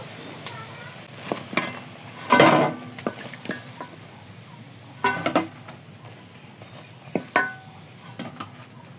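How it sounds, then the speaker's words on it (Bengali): Drumstick leaf fritters fry in hot oil with a continuous soft sizzle, broken by sharp scrapes and clinks as they are stirred and turned in the pan. "উল্টে পাল্টে বড়াগুলো খুব সুন্দর করে ভেজে নিয়েছি একদম মুচমুচে করে ভাজা হয়ে গেছে"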